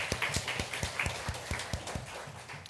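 Church congregation applauding in encouragement during a Sunday worship service, a steady wash of clapping with a few louder individual claps standing out, moderately distant and continuous throughout.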